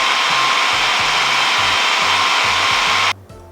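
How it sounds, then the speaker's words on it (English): Food processor grinding slivered and raw almonds, a loud steady motor whine with a rattling, pulsing chop of nuts underneath, close up, cutting off abruptly near the end. "put our 1 pound of slivered almonds in the food processor along with the 1/3 cup of the raw almonds"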